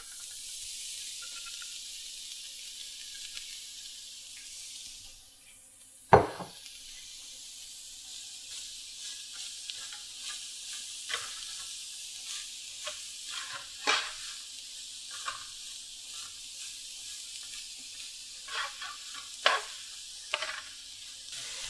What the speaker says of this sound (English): I'm gonna add the cauliflower and broccoli rice